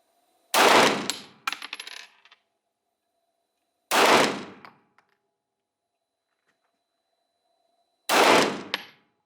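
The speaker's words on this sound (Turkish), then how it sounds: "Canik TP9 atışımızı yaptık." Three loud, sharp pistol shots from a Canik TP9 SFT METE during a shooting test in Marmaris, Turkey, spaced several seconds apart. A brief metallic tinkle of a falling casing follows the first shot, and the rest is silence.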